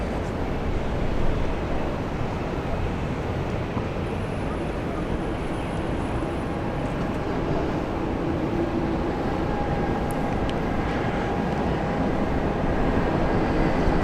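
A Jetstar airliner, flight 768, takes off from runway 34 left at Sydney Airport. It makes a steady, broad engine roar that holds at a constant level for the whole stretch, with no voices over it.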